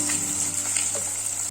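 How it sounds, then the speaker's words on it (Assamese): Fish fries in a pan in a home kitchen, a steady hissing sizzle heard up close and unbroken, with no talking. "এইফালে আমাৰ মাছ ভাজি আছে।"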